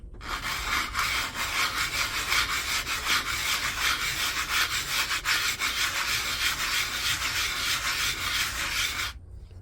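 A 3D printed pylon part rubbed across sandpaper in a steady figure-8 motion, giving a close, continuous gritty scraping with a fast, even rhythm that runs unbroken for about nine seconds before stopping.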